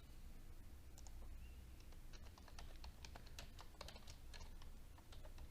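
Quick, uneven keystrokes on a computer keyboard while entering spreadsheet data, soft and close-miked, with a few brief pauses between bursts.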